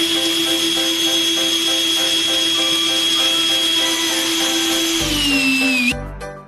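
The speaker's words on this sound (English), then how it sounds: "Stick the drill in the apple." A power drill whines steadily as it spins an apple against a peeler, the high motor tone holding even, then dipping and winding down before cutting off near the end.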